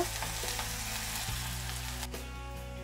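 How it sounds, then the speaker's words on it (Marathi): Finely chopped onion sautéing in a pan until lightly browned for a potato and pea curry, a close, continuous sizzle with scattered stirring scrapes and a spoon tap, with no one speaking. "कांद्याला चांगलं परतून घेऊ, हलकसं लाल कलर येईपर्यंत।"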